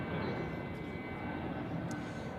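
An Airbus A340 taking off at Zurich Airport on a foggy morning, heard as a steady, distant jet engine roar that fills the whole stretch without letup.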